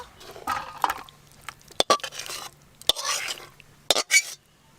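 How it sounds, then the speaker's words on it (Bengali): Cooked chicken kasha is scraped and tipped out of a metal pan with a spoon, giving several sharp clinks and scrapes between softer stirring rustles, close and fairly loud. "চিকেন কষা হয়ে গেছে, এবার ঢেলে নেব।"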